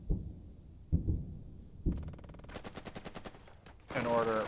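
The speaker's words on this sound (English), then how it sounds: "Now this 50 cal has only got one shot." A .50 cal machine gun fires in the war game Burden of Command, with sharp single reports giving way to a fast rhythmic burst and a louder, denser rattle at the end, over a low background.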